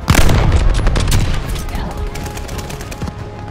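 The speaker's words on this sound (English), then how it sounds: "Hostiles are strafing us!" In the Call of Duty: Vanguard video game, aircraft strafe the ground with gunfire: a dense, loud barrage of rapid booming shots that is heaviest at the start and keeps rattling steadily to the end.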